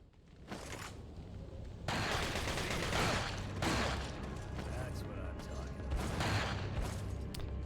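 Bursts of rapid gunfire ring out in the Resident Evil 4 video game. The loud volleys recur over several seconds with mechanical clatter between them, and a voice talks faintly underneath.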